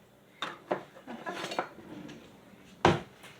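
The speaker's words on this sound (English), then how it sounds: "Let me see if I can get a knife to cut this" A knife scraping and clinking against a casserole dish while cutting a cheesy keto hamburger casserole, with several short scrapes and one sharp, louder clink near the end, close by.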